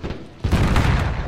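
Artillery shells exploding in Mount & Blade Warband with the Parabellum mod, a dull rumble that jumps into a loud, sustained booming roar of blasts.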